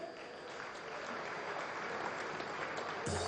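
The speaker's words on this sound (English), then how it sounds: "Please keep clapping" Sustained applause from an audience at a Vanguard man of the year awards ceremony, a dense steady wash of many hands clapping at moderate distance, ending in a brief louder burst.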